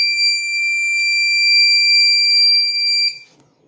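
Alarm buzzer of an RFID-based vehicle security system sounding for an unauthorized card: a steady, loud, high electronic tone held continuously for about three seconds, then cutting off.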